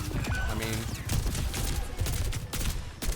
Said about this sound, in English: we're shooting him